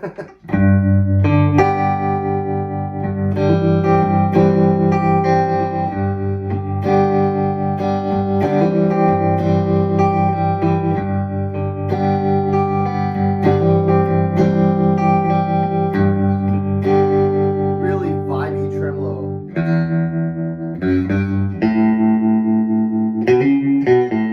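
Electric guitar chords ring through a Fender '64 Custom Deluxe Reverb amplifier with a wavering, pulsing bias tremolo and some reverb, played continuously and loudly without any speech.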